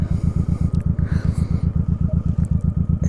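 A 2007 Honda Shadow motorcycle rolls in with its engine thumping at a steady, even low pulse, loud and close, with faint scraping and clatter over the idle-like beat.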